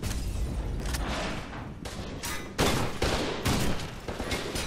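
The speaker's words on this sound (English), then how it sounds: "That's a frag grenade encounter." A frag grenade blast and rapid gunfire in the F.E.A.R. 2 shooter game, loud and dense. Repeated heavy bursts and booms come one after another with no pause.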